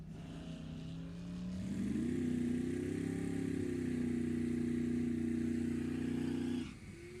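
A 1968 Camaro drag racing car accelerates down the racetrack at an NHRA bracket race, its engine note climbing into a loud sustained roar for several seconds before cutting off abruptly, with no speech over it.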